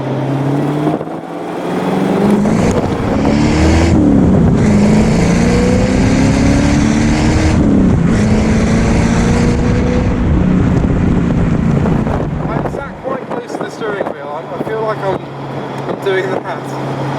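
An AK427 Cobra replica with a back box and rear-exit exhaust runs and revs outdoors, a loud steady engine drone with rising and falling pitch, wind buffeting the microphone, and someone talking over it near the end.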